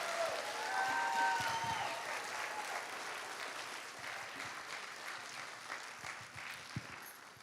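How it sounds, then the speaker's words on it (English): A school spring orchestra concert audience applauds the fifth grade orchestra, a steady wash of clapping from a crowd at moderate distance that tapers slightly toward the end, with a few brief tonal sounds early on. "how about another round of applause for our fifth grade orchestra?"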